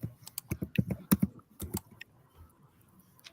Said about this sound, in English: Mama knows we can hear you typing